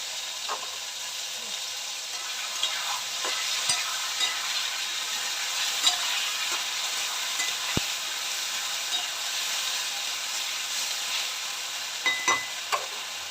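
A paste of cumin, tomato, green chilli and ginger-garlic sizzles steadily in a hot pan, a soft continuous hiss broken by occasional stirring clicks and taps.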